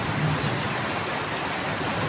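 Heavy monsoon rain pours in a dense, even hiss over rice-growing country in the Konkan, with a low rumble of thunder underneath at the start.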